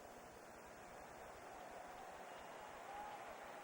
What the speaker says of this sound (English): Well, Chargers are applauding.